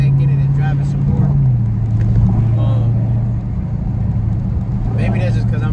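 A Dodge Challenger's engine holds a steady low drone while driving, dipping slightly in pitch partway through, with a person talking over the rumble.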